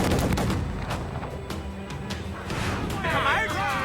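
Ship cannons boom in a naval battle in Assassin's Creed IV, heavy shots layered over a dense roar of battle noise and sea wind, loud and continuous throughout.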